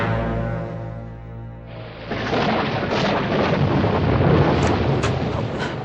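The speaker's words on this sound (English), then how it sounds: "I feel terrible dragging you out in the storm." A sudden thunderstorm in a radio drama: a tonal musical or hum bed gives way to a loud, sustained roll of thunder with heavy rain-like rumble and crackling bursts, no talk.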